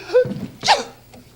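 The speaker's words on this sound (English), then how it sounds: "Who sneezed?" A single sharp, close sneeze with a quick inhale beforehand, followed by a brief breathy pause.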